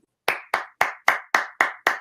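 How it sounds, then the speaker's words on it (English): Seven sharp hand claps sound close and loud in an even, steady rhythm, each one cleanly separated by a short gap. "Clap."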